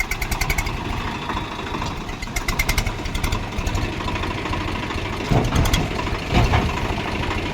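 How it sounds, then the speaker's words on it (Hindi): Model 960 tractor engine idling on a roadside by a farm with a large 14x7 trolley, a steady low rumble running throughout at moderate distance, with a few louder bursts near the end. "ये अपना ट्रैक्टर"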